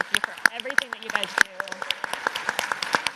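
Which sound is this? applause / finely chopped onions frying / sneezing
applause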